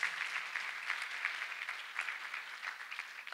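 A congregation at a church testimony service claps together in steady, even applause that sounds somewhat distant and faint, with no talk over it.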